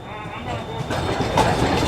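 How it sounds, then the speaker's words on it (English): A train rumbles by nearby in Houston with a steady rolling roar that grows slightly louder, while a person speaks over it. "There's a train."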